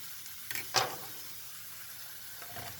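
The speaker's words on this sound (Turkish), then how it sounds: "Doğramış olduğumuz mantarımızı" A quiet sizzle of chopped mushrooms hitting a hot pan with sautéed onions, with a brief scrape and clatter early on, then a soft steady frying hiss.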